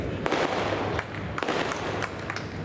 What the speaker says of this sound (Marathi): आल्यापासून जे फटाके वाजतात ते अजून बंद झाले नाही